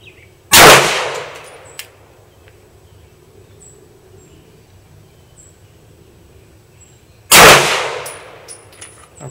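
Two loud, close HK P30L pistol shots are fired about seven seconds apart, each a sharp crack with a short ringing decay in a quiet setting.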